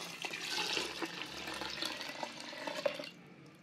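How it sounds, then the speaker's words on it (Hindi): Water pours steadily into a pot of soaked wheat and barley, a close, continuous splashing gush that stops abruptly near the end. "अब इसमें हम 7 गिलास पानी डालेंगे"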